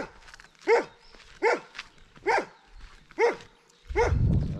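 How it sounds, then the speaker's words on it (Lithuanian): An angry dog barks five times outdoors, each bark sharp and fairly close, separated by short quiet gaps, with a burst of rustling noise at the end. "O, manęs loja piktas šuo."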